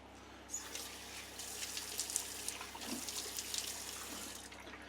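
Water runs steadily from a tap into a sink while a face is being moistened, a soft continuous splash close by with slight variations as hands move through the stream.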